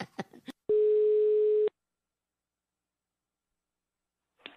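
A telephone tone sounds once as a call is placed, a steady electronic beep lasting about a second after a few short clicks, then silence follows with another faint click at the end.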